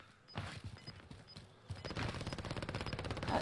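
Bursts of automatic gunfire from a Call of Duty Warzone Resurgence match, sporadic shots at first, then a dense rapid rattle that grows louder and steadier toward the end.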